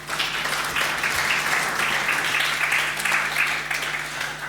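A conference audience applauds presenters at an EU funds forum, a dense, steady patter of many hands clapping in a hall, loud and sustained throughout.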